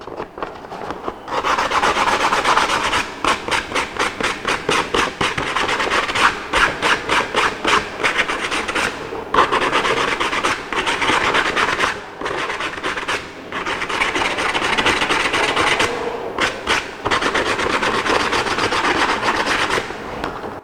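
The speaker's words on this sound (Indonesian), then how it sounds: "kertas amplas" Sandpaper rubs steadily over metal to clean it after TIG brazing cemented carbide to low-carbon steel, making a close, continuous rasping scrub in quick back-and-forth strokes with brief pauses.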